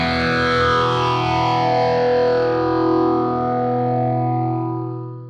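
An electric guitar played through a NUX MG-30 multi-effects unit rings out a single sustained distorted chord that slowly fades, loud and alone with no voices.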